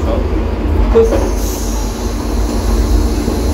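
Inside a moving train carriage, a constant loud rumble of wheels on track goes on without a break, with a brief thin squeal partway through.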